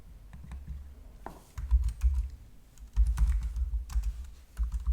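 Close computer keyboard typing, bursts of quick key clicks separated by brief pauses, fairly loud with no talking.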